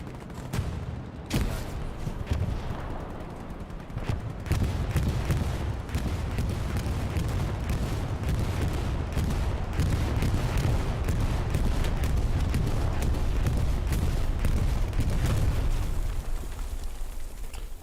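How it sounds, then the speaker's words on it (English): In Hell Let Loose, a loud, continuous barrage of explosions, artillery booms and rapid gunfire rolls on without pause. "That was a lot of explosions."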